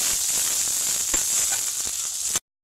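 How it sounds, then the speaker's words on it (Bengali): Onions frying in oil for an egg tadka give off a steady, close hiss of sizzling with a few faint clicks from stirring, then stop abruptly. "পেঁয়াজটা দিয়ে বেশ কয়েক মিনিট ভালোভাবে নাড়বো, কারণ পেঁয়াজটা বেশ ভাজা ভাজা লাল লাল হয়ে দেবো।"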